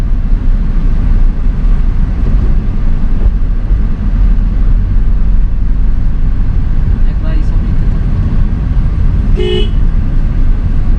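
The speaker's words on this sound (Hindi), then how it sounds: "गाड़ी को थोड़ा सा स्पीड बढ़ा लीजिए, थोड़ा सा सेकंड गियर डाल के चलाइए" A car driving at speed in second gear during a beginner driving lesson, steady engine and road noise throughout, with a brief horn toot near the end and a voice speaking over it.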